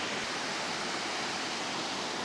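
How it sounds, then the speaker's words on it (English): Steady roar of rushing water from a waterfall or stream, a dense broadband hiss held at constant level throughout, no voices. "aside from the water roaring, it's quiet"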